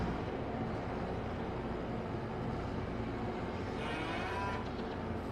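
Cattle mooing in the Farming Simulator 22 video game, a steady low lowing bed of livestock sounds heard faintly and continuously with no talk.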